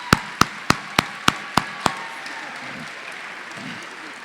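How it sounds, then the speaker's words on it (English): A handful of sharp, evenly spaced claps, about seven in quick succession, ring out in a hall at a 2019 nursing pinning ceremony, then fade into quiet room tone. "Join me in giving them a round of applause because they're the reason we're here."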